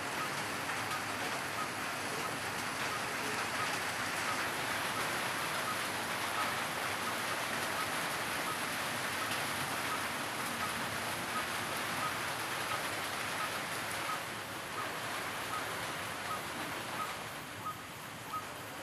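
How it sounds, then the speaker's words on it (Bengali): Steady rain drumming on a tin roof in Manikganj, a dense continuous patter that stays even and unbroken throughout with no voices. "যারা যারা টিনের চালের বৃষ্টি শুনতে পছন্দ করেন, বৃষ্টির শব্দ, তারা একটু উপভোগ করুন টিনের চালের বৃষ্টির শব্দ"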